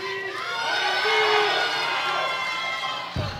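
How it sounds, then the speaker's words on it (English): Crowd cheering and whooping at a junior world powerlifting championship, a loud sustained roar of many voices with shouts on top, cut short near the end by a sudden low thump. "Got a good cheering crowd out here."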